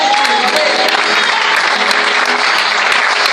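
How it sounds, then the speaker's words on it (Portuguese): A church congregation at a worship service claps together in loud, dense, sustained applause that fills the whole stretch evenly, with no speech standing out above it. "Dá uma salva de palmas, uma salva de palmas."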